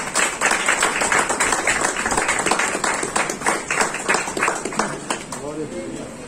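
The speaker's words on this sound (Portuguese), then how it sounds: "E as palmas louvam ao Senhor." A church congregation claps together during a Sunday family service, rhythmic applause filling the hall at close range with voices mixed in, then thinning at the end.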